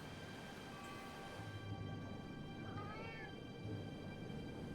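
A cat meows once in a supernatural point-and-click adventure game, a single short call standing out faintly over a steady ambient background drone.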